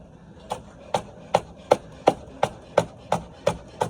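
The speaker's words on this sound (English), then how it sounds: "chopping up some red and yellow peppers" Knife chopping red and yellow peppers on a cutting board, about ten crisp, evenly spaced chops in a steady rhythm, close and clear with no talking.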